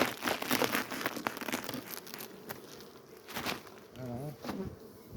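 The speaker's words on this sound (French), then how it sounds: "Voilà, vous voyez les abeilles." Honey bees buzz at a beehive as it is checked, a close, busy drone with crackling bursts of activity and crinkling handling noise, while a voice speaks faintly in the background.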